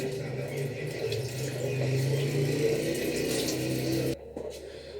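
Water runs steadily from a tap while someone splashes it onto their face before shaving, a close, continuous gush with a faint voice underneath that stops abruptly near the end.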